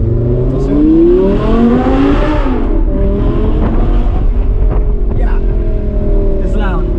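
An Audi R8 V10 Plus with a sport exhaust roars loud and close as it accelerates, its engine note rising through the gears under steady cabin road noise, with people talking over it.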